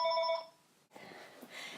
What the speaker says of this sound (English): That was my house phone, not my cell phone.